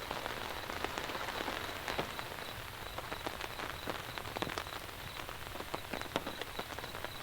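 Steady rain patters on an overhead camp shelter at night, a dense, even hiss of drops with scattered sharper taps, continuous and close throughout.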